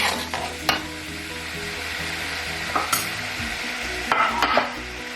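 Broccoli stir-frying in a hot pan, a steady close sizzle with repeated scraping stirs and a few sharp clinks of utensil on metal.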